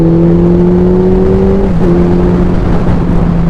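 A Suzuki Hayabusa motorcycle at high speed on an open road, engine droning loud and steady with a rising pitch and one quick shift blip, heavy wind roar throughout, no voices.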